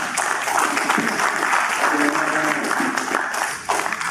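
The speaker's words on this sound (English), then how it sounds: "Can we give them a big round of applause, please?" A conference audience at Satoshi United in Singapore breaks into dense, steady applause that fills the space for several seconds, with a few voices mixed in beneath the clapping.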